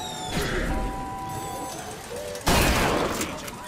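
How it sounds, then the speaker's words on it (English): Weapons fire at flying robots in the video game Bioshock Infinite, with bursts of shots and crashes over game music and a sharp loud blast near the end. "Now take aim and blast those evil bots out of the sky."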